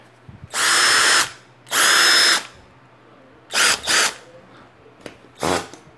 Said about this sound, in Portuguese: Marteletezinho.